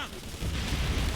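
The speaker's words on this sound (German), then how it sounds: "Das sind Schüsse." Gunfire and explosive booms in the military shooter Operation Flashpoint: Red River, a dense low rumbling blast that swells and sustains, with voices mixed in.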